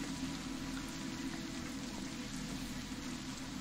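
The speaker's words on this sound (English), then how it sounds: "It is still raining on you, by the way" Steady rain falling in the open, an even, continuous patter and hiss with no pauses, moderately loud and unbroken throughout.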